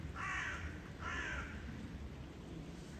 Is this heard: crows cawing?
yes